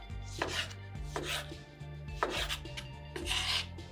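Knife chopping red onion and tomatoes on a board, with rough, rhythmic thuds and rasping cuts about every second, close and clear with no talking.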